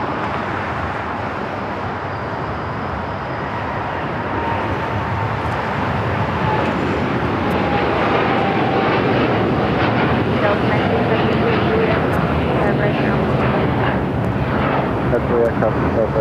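Airliner at LAX bound for Hong Kong, a United Dreamliner: broad, steady jet roar that swells louder as it goes, with a person talking over it.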